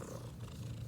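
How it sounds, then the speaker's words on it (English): A house cat purring steadily up close, a continuous low rumbling rhythm with no other sounds over it. "My cat's purring."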